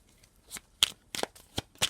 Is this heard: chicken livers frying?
no